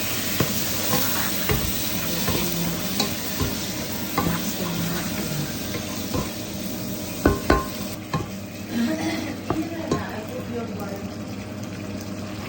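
Tomato goes into a hot pan of oil for an Arabic fish biryani, giving a loud continuous sizzle with occasional stirring knocks and clatter, and a voice speaks briefly over it.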